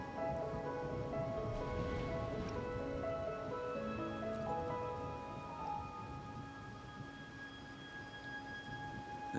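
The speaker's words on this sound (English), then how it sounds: "Or are you simply passing the time until the rain ends?" Rain falling steadily in the video game Wuthering Waves, a constant soft hiss of drops with faint tonal music running beneath it and no talk.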